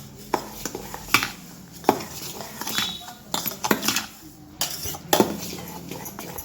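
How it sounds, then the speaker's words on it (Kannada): Vermicelli payasam with salt and sugar being stirred in a pot, a spoon scraping and clinking against the metal in irregular bursts, close and fairly loud, with no talking. "ಹಾಕಿ ಇದನ್ನು ಚೆನ್ನಾಗಿ ತಿರುವಾಡಿ"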